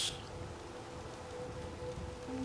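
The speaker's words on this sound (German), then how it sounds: "die Regentropfen, die hier auf einen herunterfallen" Steady rain falling in the Fallout 4 game world, with oversized raindrops from a weather mod, a continuous moderate patter across the whole span with no talk.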